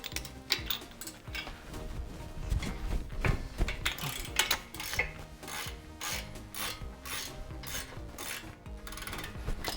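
A ratchet unscrewing a brake caliper bolt on a 2011-2020 Toyota Sienna, with rapid, continuous clicking and rasping that is loud and close, ratcheting steadily across the whole stretch with no talking.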